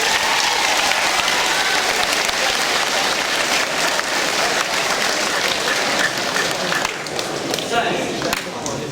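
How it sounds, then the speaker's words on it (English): Applause from a school assembly audience, a dense continuous clatter of many hands clapping that fills the room for several seconds and thins slightly toward the end. "Give them a round of applause again."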